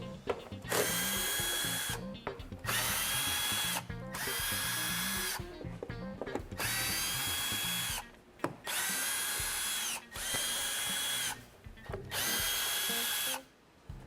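A power drill spins out 10 millimeter plastic nuts from a panel under a Chevrolet Cruze diesel. It makes repeated loud whirring bursts of one to two seconds, each separated by brief pauses, up close and with no talking.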